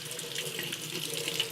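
A kitchen sink faucet runs steadily as an egg is rinsed under it, a close, continuous splashing stream with small irregular patter against the basin, with no voices.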